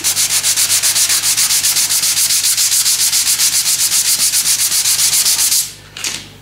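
Steady machine sanding on a Bridgeport milling machine under repaint, working down a low spot in filler; loud, even rhythmic strokes run continuously for over five seconds before stopping abruptly, with no talk.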